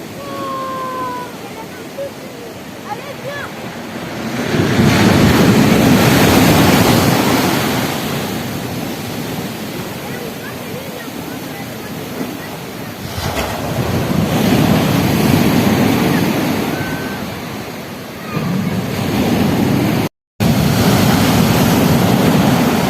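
Ocean waves at the coast near Carnac in freezing winter weather, surging in loud broad washes that swell and recede in cycles, with wind buffeting the microphone throughout.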